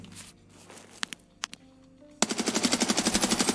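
Rapid automatic bursts from an AUG rifle in the shooter game Escape from Tarkov, a loud sustained string of shots after a few quiet clicks and handling sounds, with no voices.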